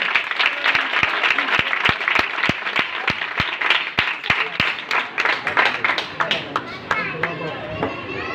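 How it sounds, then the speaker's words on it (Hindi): Audience applause at a religious gathering, rhythmic unison clapping in steady beats that loosens into scattered applause, heard alongside speech. "एक बार जोरदार तालियां"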